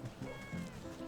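A cat meows in the Wytchwood video game: a brief, close cat vocalization lasting about a second over a busy game background.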